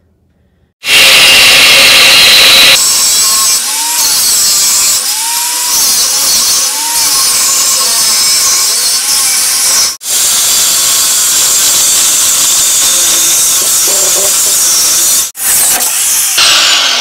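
A power saw cuts through old exhaust pipes on a 1969 Chrysler, a loud harsh continuous grinding hiss close up, with brief dips where the cut pauses twice and the tone wavers as the blade bites.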